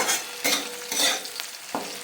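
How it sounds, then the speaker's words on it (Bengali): Onions fry in a pan for upma while a spoon stirs them in several loud scraping sweeps, each burst over a steady close sizzle, with no voices. "বেশি ভাজতে হবে না পেঁয়াজটা"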